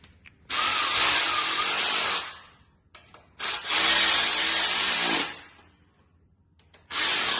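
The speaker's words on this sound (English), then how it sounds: "About to start tightening up this one now." Power tool, likely an impact driver or drill, tightening ARP 2000 bolts during a Lexus IS200 engine build: three loud sustained whirring bursts close by, separated by brief pauses, with no talking.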